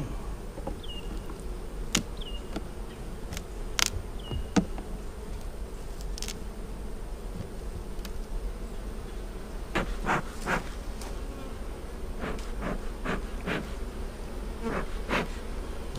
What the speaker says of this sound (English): These bees are not happy bees.